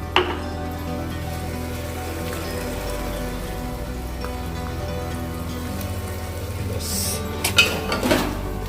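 A tomato rice mixture is stirred in a pressure cooker, producing a steady, rain-like pattering sizzle close by. Several scraping metal clinks cluster near the end, and nobody talks.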